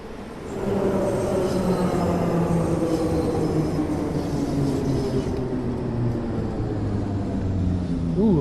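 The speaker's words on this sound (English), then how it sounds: "Ooh, looks like a train has just arrived." Train arriving at a station in the Train Sim World 2 video game, a loud steady rumble with rising and falling tonal whines from the traction motors as it pulls in, holding throughout the clip.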